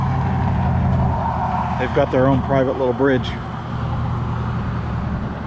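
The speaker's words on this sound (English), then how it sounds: "And I'm sure you can hear the traffic." Road traffic rumbles steadily beside a creek at a ranch, a continuous low hum of passing cars and trucks running under a person speaking for a couple of seconds midway.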